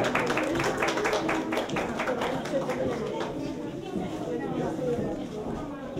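Applause for a child prize winner at a school fishing-themed contest ceremony: a crowd claps steadily and warmly for several seconds, fairly close, with a little chatter underneath.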